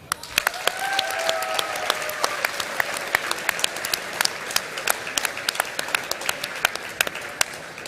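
Audience applause at a hackathon closing ceremony, a broad wash of clapping with sharp individual claps standing out, plus faint tonal sounds that could be cheers or whistles partway through.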